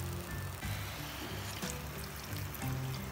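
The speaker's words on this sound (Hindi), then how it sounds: "अब इसमें मैं 1 गिलास पानी ऐड करूँगी।" Water is poured from a glass into a curd and besan curry, a quiet continuous splashing trickle with a few gurgles.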